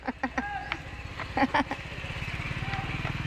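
A motorcycle putters on a street where stray dogs are being fed. Its low, rhythmic engine chugging becomes steady in the second half, while people talk and call out over it in short bursts.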